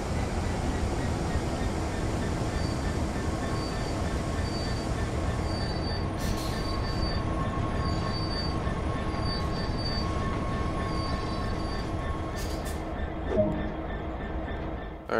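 A train in the Train Sim World video game rolls slowly into a station, its steady rumble of wheels on rail continuous and fairly loud, with faint wheel squeal and brief high metallic chirps over the top.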